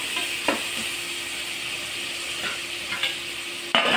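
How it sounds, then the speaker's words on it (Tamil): Tomatoes sauté in a pan for mutton biryani, giving a continuous close sizzle broken by a few sharp scrapes of a stirring spoon. "இப்போ இதுவும் நல்லா வதங்கணும் தக்காளியும்"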